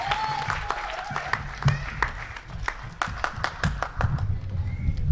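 A hall audience claps to welcome an organiser to the dais at a poetry gathering, sharp individual claps scattered irregularly over murmuring voices and room noise.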